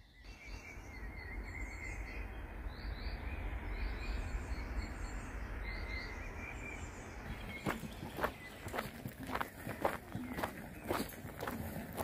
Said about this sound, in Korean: 산책로에 산책을 하다 보니까 와, 진짜 새소리가 너무 많이 들려요